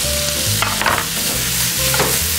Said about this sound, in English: Flavor that with some garlic and some onions. Toss in our pork liver.